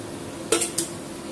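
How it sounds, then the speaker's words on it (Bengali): Paneer cubes dropped into a pan of spiced vegetables for an aloo paneer curry, two quick metallic clinks of utensil against pan over a low steady background hum, with no speech. "এর মধ্যে এবার আমি পনিরগুলো দিয়ে দেব।"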